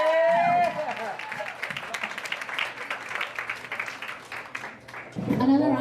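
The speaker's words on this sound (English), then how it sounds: "Another round of applause for Zach." Audience applause at an evening spoken-word and music program, a dense burst of clapping and cheering from a room of people, with voices over it at the start and end.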